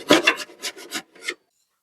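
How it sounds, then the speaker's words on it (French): A wooden strip being cut to width by hand, heard as five or six short rasping strokes in an uneven rhythm, close and fairly loud, then stopping into silence. "je viens de découper la baguette à la bonne largeur"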